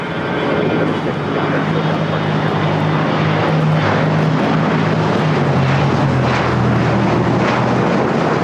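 An Airbus A320neo in Penguins livery on the ground at LAX, giving a loud, steady jet engine roar with a slowly falling tonal whine over broad rushing noise throughout.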